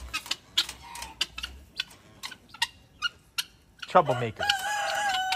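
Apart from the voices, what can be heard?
guinea fowl fighting and calling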